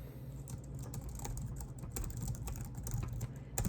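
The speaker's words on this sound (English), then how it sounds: "That's probably why I'm typing bad." Steady clatter of typing on a computer keyboard, fast irregular key clicks close by over a low constant hum, with no voices.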